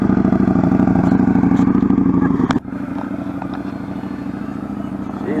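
A motorcycle ridden by a learner on a training course through right and left turns, its mid-pitched engine droning steadily and close, dipping briefly partway through before carrying on beneath a commentator's talk.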